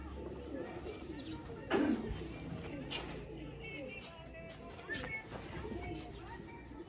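Breeder pigeons cooing softly in a loft, low murmuring calls beneath a voice talking throughout, with occasional wing flutters and rustles nearby.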